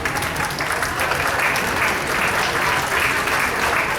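An audience applauds at an installation dinner, a dense, loud and steady wash of clapping that keeps going without a break. A voice may be faintly audible under the clapping.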